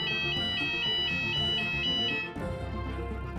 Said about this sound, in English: The Inchbrook house fire alarms are tested every Friday at 10:30 and sounds like this.